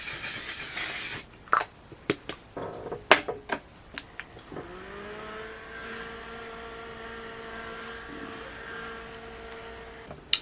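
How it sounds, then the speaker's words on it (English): A short burst of fine makeup setting spray hissing at the start, then a few clicks and a steady mechanical hum that lingers. "For setting spray, I'm gonna use the One Size setting spray."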